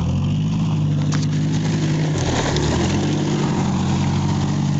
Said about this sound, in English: Thing sounds badass with that bad exhaust.